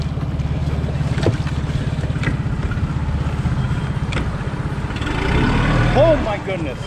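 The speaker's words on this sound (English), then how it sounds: "Go start the engine, son." A boat's engine runs with a steady low rumble on open water near a bridge in a creek in the Florida Keys, under wind noise and splashing, with a voice briefly calling out near the end.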